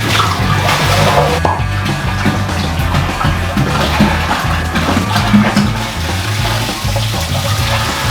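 Reverse osmosis water, 8.8 gallons of it, gushes steadily from a container into a metal brewing kettle for home-brewed apricot blonde ale, a loud continuous splashing pour with no speech.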